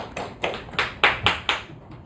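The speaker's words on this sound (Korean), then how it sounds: "아그들아 박수를 치라고." Church congregation clapping for the parents during a sermon: about seven sharp claps in an even, moderately paced rhythm, fairly close and alone without talk.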